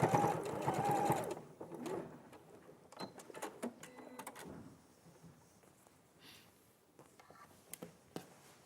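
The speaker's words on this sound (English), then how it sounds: "when you're machine tacking, you're going to sew within the seam allowance" A sewing machine machine-tacking within the seam allowance: a short burst of close, rapid stitching at the start, followed by quieter handling clicks and soft rustles of fabric.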